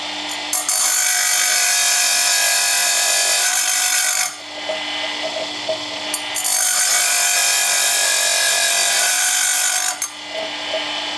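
A grinding wheel sharpening a very hard cutter makes a loud, steady, harsh grinding hiss in two long passes, each dropping briefly as the cutter comes off the wheel.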